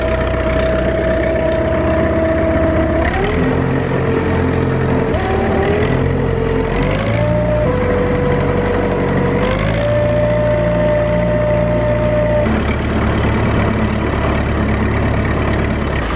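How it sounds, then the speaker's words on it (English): An old scraper tractor working a cow-shed yard runs loud and close, its engine holding steady with several shifts in pitch as the revs change, and no talk over it. "Down the back goes, and ready for some exhaust noise."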